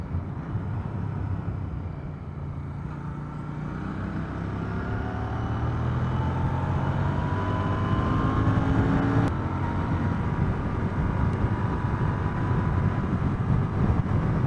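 Royal Enfield Continental GT or Interceptor 2020 motorcycle engine pulling steadily and climbing through the rev range, a continuous loud drone with rising tones and wind noise, no talking.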